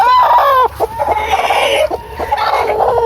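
Heritage chickens, including black Australorps, clucking and crowing loudly up close in a farm setting, with several overlapping squawking calls and no talking.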